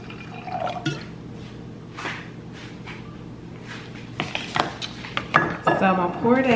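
Sweet wine poured into a glass in a home kitchen, a short trickle of liquid with light clinks of glassware near the end, while someone talks throughout.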